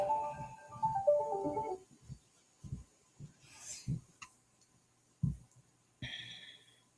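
A phone ringtone from an unknown caller sounds in a few brief tonal bursts over soft breathing and faint low thumps, fairly quiet and close.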